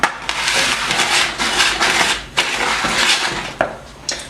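A utensil scrapes and clinks against a bowl in repeated strokes while chocolate chip cake batter is mixed with baking powder and baking soda. Every few seconds a sharper knock on the bowl cuts through the close, uneven stirring.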